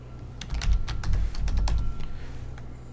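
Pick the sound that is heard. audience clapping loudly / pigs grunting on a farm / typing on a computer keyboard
typing on a computer keyboard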